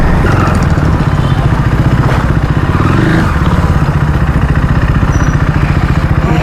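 A motorcycle with a recently rebuilt engine is ridden along a road, its engine giving a loud, steady, rapid thrumming pulse with a slight rise and fall in pitch, close and continuous throughout.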